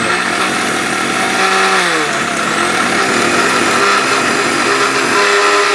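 A Veronica blender, an Indian brand, grinding cumin and other spices: a loud, steady high-pitched motor whine, with its pitch shifting slightly as the load changes, running continuously with no talking.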